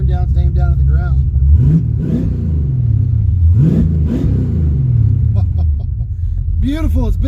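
A car with its tailpipes removed and dumped exhaust revs and settles into a lumpy cam-chop idle, with loud rising and falling engine sweeps repeating several times up close.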